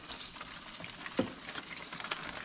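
Whiting fish cooking in an air fryer, a faint steady hiss and crackle of sizzling with light scattered pops, close by and low in level with no voices.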